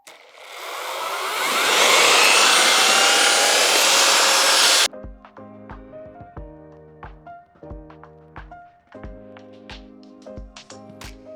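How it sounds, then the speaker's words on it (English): A paddle mixer churns flood barrier base compound, giving a loud, rising whirring roar for nearly five seconds that cuts off abruptly. Rhythmic tonal music follows. "So I'm using a paddle mixer to help mix this one up"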